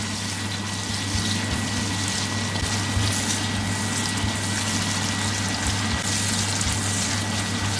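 Green chillies and curry leaves sauté in oil, with a dense, constant sizzling hiss and a steady low hum underneath, unbroken throughout and fairly loud, no voices.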